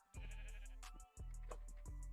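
Sheep in a modded Minecraft world let out two drawn-out, clear bleats, one after the other, each with a small click at its start, alone and fairly close.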